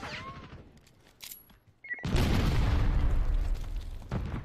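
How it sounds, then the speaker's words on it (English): Rockets explode in the Call of Duty Black Ops 6 Nuketown map: a few faint pops, then a loud burst that rolls into a sustained, booming rumble of blasts and gunfire. "Fucking stupid rockets keep hitting me, right?"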